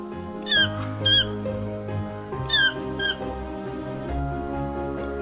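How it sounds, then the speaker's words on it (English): Toco toucan in the Amazon rainforest canopy giving a few loud, harsh squawking calls in short bursts over a steady background of music-like tones. "Ruling from the highest branches is the toko toucan"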